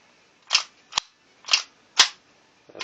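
Airsoft Tanfoglio pistol slide being worked during reassembly, five sharp, loud metallic clacks spaced about half a second apart, close up and alone.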